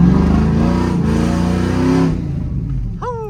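A loud cammed truck engine revs hard and holds a high, rough roar with a choppy idle pulse, then drops off abruptly, leaving a brief squeal near the end.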